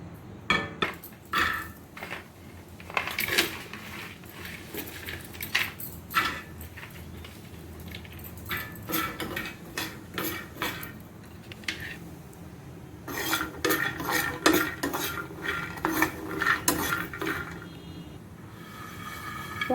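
Walnuts roasting in a metal pan for dry fruit laddu, with repeated scraping and clattering of a spoon against the pan in irregular bursts, busier toward the end, close and fairly loud with no talking.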